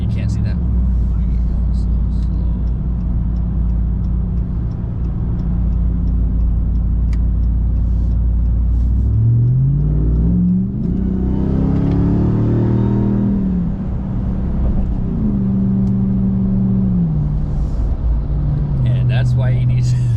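A 702-horsepower Ram TRX pickup accelerates on a snowy road: a low, steady engine drone swells midway into a rising, throaty roar, then settles again, with a voice talking over it.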